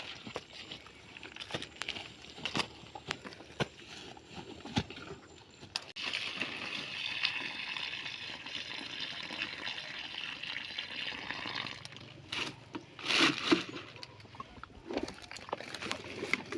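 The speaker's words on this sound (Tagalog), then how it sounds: "agos yung tubig sa likod ko" Water flows steadily nearby while scattered drips and splashes patter irregularly, growing briefly louder near the end.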